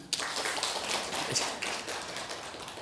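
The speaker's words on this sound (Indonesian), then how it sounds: "Tepuk tangan tuh." Audience clapping at an Islamic parenting talk, a dense patter of many hands filling the room at a moderate level with no talk over it.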